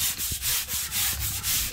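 Crayon marks scrubbed off a painted wall by hand with firm pressure, a loud close rubbing sound in quick repeated back-and-forth strokes, with no talking.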